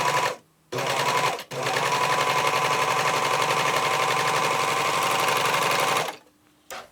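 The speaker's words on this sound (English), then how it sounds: "this time we're going to do it with our gathering foot." Baby Lock Admire Air 5000 serger gathering fabric with a gathering foot, a loud, rapid mechanical chatter in two runs, a brief burst, a short pause, then a long steady stretch before stopping.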